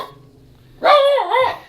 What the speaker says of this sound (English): You're barking too much.